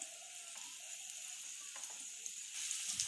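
Sliced onion and green chillies sizzle in hot oil in a pan, a steady close crackle with a few faint scraping stirs and no voices.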